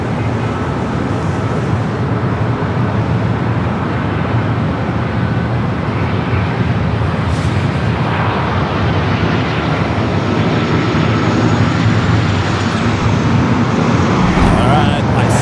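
An airliner arriving from Paris touches down on runway 25 left at LAX, its broad, steady roar of jet engines and rushing air filling the scene continuously at a constant loud level, with a voice talking over it.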